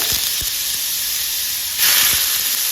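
Bottle gourd hits hot oil tempered with asafoetida over a high gas flame, giving a steady loud sizzle and hiss that swells sharply partway through as the pieces go in, with no talk.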